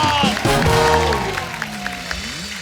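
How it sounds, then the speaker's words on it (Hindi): A studio audience at a comedy talk show claps and cheers, the applause loudest at first and then thinning, while background music with sliding tones plays over it. "देव साहब के लिए तालियां।"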